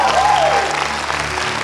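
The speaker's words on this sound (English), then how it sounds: "Clap if you believe." A church congregation claps together during a deliverance prayer service, a short burst of full applause with a steady low hum and a voice or tone gliding briefly over it.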